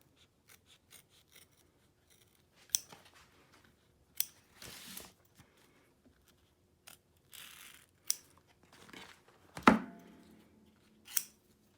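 Scissors snip around applique fabric on a machine-embroidered zip bag, a string of short, sharp cuts coming in uneven bursts with quiet gaps between them, close and fairly faint, with no one speaking.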